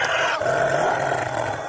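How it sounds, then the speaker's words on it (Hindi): A wolf growls loudly and continuously in a horror-story sound effect, a rough, sustained snarl close up with no pause. "तभी वह भेड़िया जोर जोर से गुर्राने लगता है"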